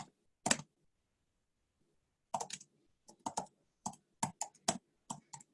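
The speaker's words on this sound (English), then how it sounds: "hopefully you can see me typing this out" Typing on a computer keyboard in a quiet room: one isolated keystroke, a long pause, then an irregular run of crisp, close key clicks.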